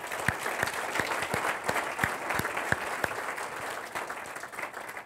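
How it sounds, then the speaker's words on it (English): A meeting audience gives a full round of applause, dense sustained clapping from many hands filling the room, steady and moderately loud throughout. "So let's give Cedrick another big round of applause for that."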